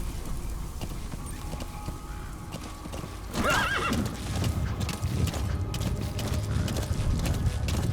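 Steady clip-clop of horse hooves with a loud whinny partway through, set against a continuous background rumble in the video game Metal Gear Solid 5: The Phantom Pain.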